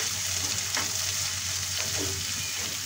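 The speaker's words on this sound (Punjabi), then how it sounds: "ਪਿਆਜ਼ ਨੂੰ ਆਪਾਂ ਜ਼ਿਆਦਾ ਭੁੰਨਣਾ ਨਹੀਂ ਹੈ, ਕਿ ਜਿਵੇਂ ਬਰਾਊਨ ਕਰਨਾ" Chopped onions frying lightly in a pan for dhaba-style paneer bhurji make an even, soft sizzle with a couple of brief stirring scrapes, heard close and alone.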